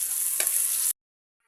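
Whole onion hits hot mustard oil and sets off a bright, steady hiss for under a second, then cuts off abruptly into silence.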